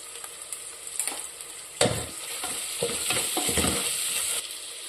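Onions and green chillies sautéing in oil until golden for a pressure-cooker prawn biryani, a steady close sizzle with stirring scrapes and a sharp clatter near the two-second mark, with no voices.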